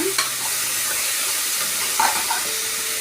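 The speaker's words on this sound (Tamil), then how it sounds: "அப்போ இந்த தக்காளி எடுத்துக்கணும், நல்லா போட்டு நல்லா சீரகத்தோட கிண்டுவாங்க." Tomatoes, onions and cumin fry in a pan for chicken kuzhambu, giving a constant close, loud sizzle with scraping stirs over it and no talk.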